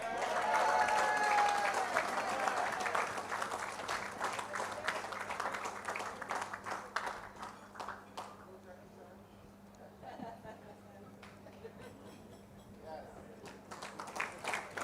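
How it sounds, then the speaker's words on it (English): Audience applause at an anniversary awards banquet, loud sustained clapping from a large room that gradually thins and fades, with voices murmuring underneath. "A round of applause."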